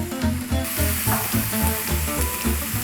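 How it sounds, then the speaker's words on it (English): Döner kebab pieces fry in a hot buttered pan, giving a loud close sizzle with a rhythmic low thumping pulse running beneath it throughout. "I put each döner piece as it gets the heat from the fire like this."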